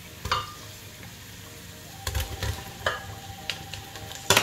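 Eggplant pieces drop into a frying pan, with a soft sizzle of frying underneath and several clunks and scrapes of the pan and utensils at intervals.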